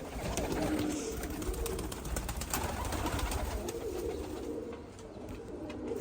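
Many birds calling and cooing together, a dense, steady chorus that fills the scene without pause, with some low rumbling underneath.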